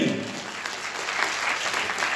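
Audience applause at a 2023 talent search competition in Mirapur Vasahi, a steady wash of clapping from a crowd filling the whole stretch at moderate level.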